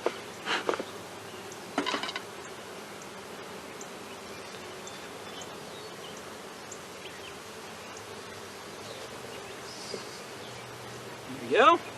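Honeybees dusted in powdered sugar buzz in a low, steady drone, close and faint, with a few brief louder rustles and a voice speaking near the end.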